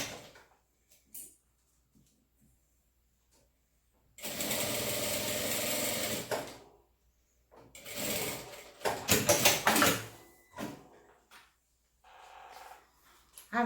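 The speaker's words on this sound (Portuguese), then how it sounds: "Começando a costura aonde a gente marcou, finalizando aonde a gente marcou e fazendo com meio pezinho de máquina." Sewing machine stitching a medicine bag at half-foot width, with a sustained run of stitching in the middle and shorter bursts later, interspersed with quiet handling pauses.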